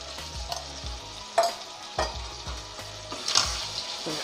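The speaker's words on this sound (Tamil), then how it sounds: "எண்ணெயில் கொஞ்சம் இந்த மசாலாவை நல்லா வதக்கி விடணும்." Ground masala sautéed in oil for a Tamil tomato gravy: close, steady sizzling with a spoon repeatedly scraping and knocking the pan in a loose rhythm, no voices.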